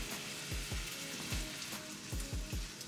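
Beef frying in a pan with green and red peppers and onions for Spanish rice, a constant close sizzle broken by a series of low thumping stirs at an irregular rhythm.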